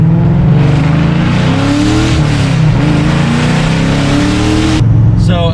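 A 2005 Mustang GT with a 3-valve V8, long-tube headers and a muffler delete, roaring loudly up close through repeated rising revs and gear changes under acceleration.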